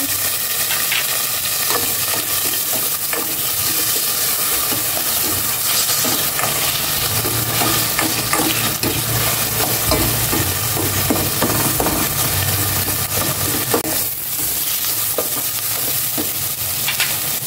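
Chopped onion sautés in a hot pan with garlic, giving a loud, continuous sizzle and frying hiss with occasional stirring scrapes, close up, with no talking.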